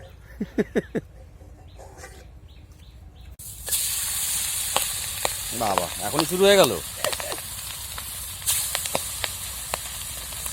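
After a few quiet thumps, large river boal fish hits hot oil and a loud, steady sizzle takes over, with a person speaking briefly over the crackling fry.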